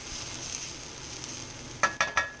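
Vegetables sizzle and caramelize in a hot pan with a steady hiss, then three sharp utensil clacks follow as they are stirred near the end.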